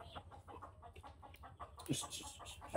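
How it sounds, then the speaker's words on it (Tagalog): A chicken clucks in short repeated bursts, with a louder squawk near the end and faint background noise. "Kulit na manok natin."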